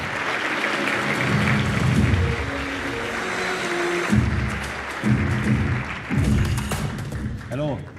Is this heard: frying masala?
no